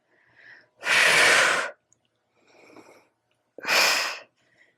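Deep breaths during a Pilates mat exercise, two long forceful exhales with softer, quieter inhales between them, close to the microphone and without speech.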